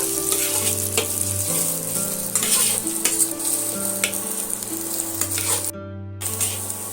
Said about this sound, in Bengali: সেটাও আমি তেলের মধ্যে অ্যাড করে দিলাম দিয়ে আমি ভালো করে পেঁয়াজটা এইভাবে লাল লাল করে ভাজা করে দেব